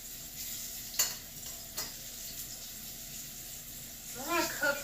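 Boneless chicken thighs frying in a cast iron skillet, a steady soft sizzle and hiss throughout with a few faint clinks, and a voice talking briefly near the end.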